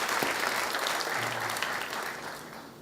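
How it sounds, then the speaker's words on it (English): A room of guests claps for CBS at the USC Annenberg Media Center naming ceremony, a sustained round of applause that holds steady for a few seconds and slowly tapers. "If we could do a round of applause for CBS"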